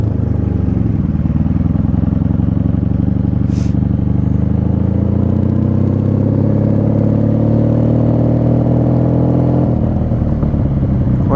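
A 1995 Honda Magna V45 VF750C custom motorcycle rides at night, its V4 engine droning loud and steady up close, pitch climbing gradually through a long pull before easing off near the end.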